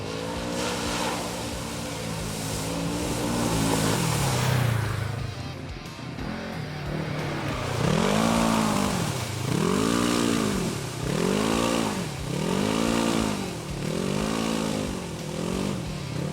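A Segway AT10 1000cc ATV quad drives off-road with a loud engine note that swells and fades in repeated rhythmic revving cycles, close and prominent throughout.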